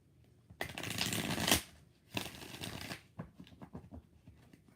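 Tarot cards are riffled and shuffled in two long bursts, then a series of softer shuffling taps, close and fairly quiet.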